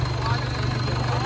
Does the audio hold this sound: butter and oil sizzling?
no